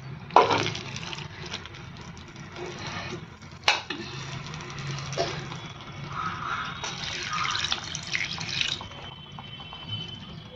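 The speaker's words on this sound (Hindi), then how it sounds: "एबे एथरे अल्प टिके पानी दबा, बेसी नहीं" Water poured into a pan while cooking paneer cashew curry: a steady, close splashing pour with a few sharp clinks against the pan. There is no talk.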